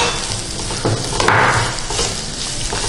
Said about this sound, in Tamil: ஆயில் காஞ்சிச்சு, இப்போ கட் பண்ணி வச்சா வெங்காயம் சேர்த்துக்கலாம்.